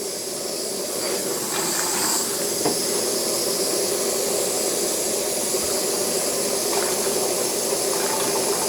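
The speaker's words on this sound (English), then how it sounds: "with my little torch, a judicious amount of heat on the brass boiler" A small torch heats the brass boiler of an antique Jensen Weeden toy steam engine, giving a loud, steady roaring hiss that holds evenly throughout.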